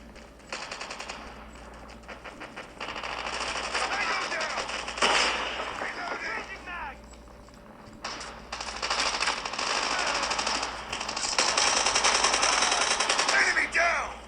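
Rapid automatic gunfire from Call of Duty Mobile played on a Huawei nova 5T phone, dense bursts running through most of the stretch with game effects and short louder volleys, a player's voice speaking over it.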